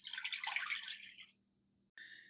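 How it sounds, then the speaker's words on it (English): Water pours into a cooking pot in a steady, close splashing stream for about a second, stops, then a brief second splash follows. "We'll start by adding the water to our pot."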